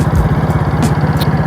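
A restored 70 cc Honda motorcycle engine revs up close and loud, a fast, even putter of rapid firing pulses that stays steady through the short burst.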